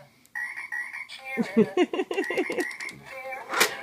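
A frog croaks in a quick run of raspy, rhythmic calls close by, with a high chirp near the end and a faint steady tone underneath.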